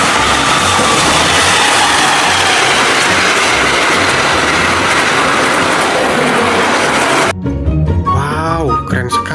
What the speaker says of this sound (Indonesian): ini ada kereta api teman-teman